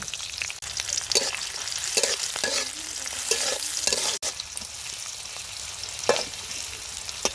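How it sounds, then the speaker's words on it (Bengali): Chopped onion, green chilies and garlic fry in oil in a wok, a steady close sizzle with the scrape and clatter of stirring throughout, no voices. "পেঁয়াজ কাঁচামরিচটা এত ভাজার দরকার নেই"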